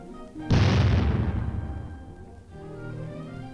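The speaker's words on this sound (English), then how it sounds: "high-velocity shells are fired at the weld itself" High-velocity shells strike a welded tank armor plate in a single loud, close blast that rolls off into a fading rumble over about two seconds, with no voices.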